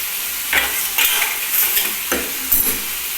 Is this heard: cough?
no